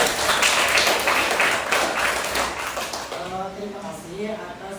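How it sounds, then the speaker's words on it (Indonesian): A class of students applauds, a dense burst of clapping that tapers off over a few seconds while voices start talking over it. "Ya, tepuk tangan untuk"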